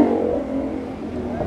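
A 2014 car rated at 305 horsepower revs at a harvest festival parade in Pyskowice, a close, steady engine drone that holds without pause, with voices faintly underneath.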